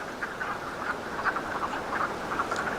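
Wood frogs croak in a dense chorus beside the Union Canal, many overlapping clucking calls close by and continuing without pause, with no voices.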